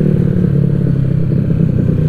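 A motorcycle engine idles steadily up close, a continuous low, lumpy throb with a clattery mechanical edge and no revving.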